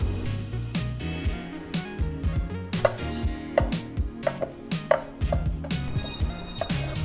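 A knife slices shimeji mushrooms on a cutting board, making crisp, irregular chopping taps in quick bursts, close and fairly loud.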